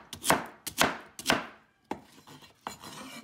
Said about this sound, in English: And then this one I just cut into cube.